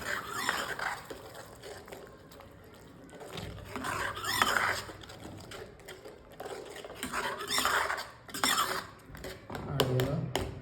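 Paneer makhani gravy stirred in a pan with a spoon, soft scraping and clinks of utensil against metal coming in irregular bursts, close and fairly quiet with no talking.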